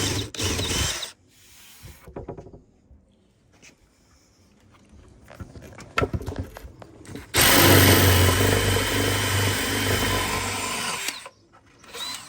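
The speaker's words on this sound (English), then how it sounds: "we're just going to drill some holes for the wires" A power drill bores holes for LED wiring in a custom-built wooden desk, with scattered tool clatter and short bursts before a loud sustained whirring run of several seconds that stops, then more handling noise.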